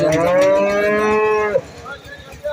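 A Holstein cow lets out one long, loud, close moo lasting more than a second and a half, followed by quieter snorts and shuffling near a farm stall, with no one speaking.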